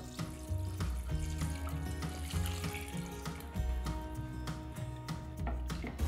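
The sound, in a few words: pouring chicken or vegetable stock over diced potatoes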